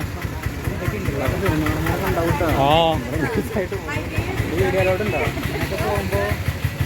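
A motorcycle engine idles on a street in Mattancherry's Jew Town in Kochi, a low steady rumble running beneath continuous nearby talking.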